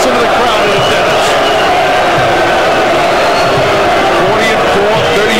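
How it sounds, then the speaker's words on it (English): Boxing arena crowd at a heavyweight title bout cheering and roaring in a dense, continuous wall of noise, loud and sustained throughout. "Listen to the crowd in attendance."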